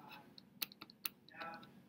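A handheld calculator's buttons are pressed in a quick series of faint, close clicks and taps, a handful of sharp keystrokes with a soft voice murmuring quietly beneath.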